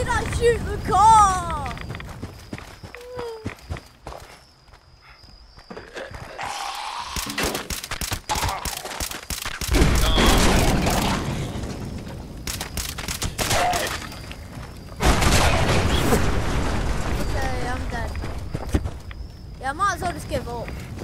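Fallout 76 combat plays out with repeated bursts of gunfire and fusillades over several stretches, some rapid and dense, others spaced, mixed with footsteps and in-game clatter while people talk throughout.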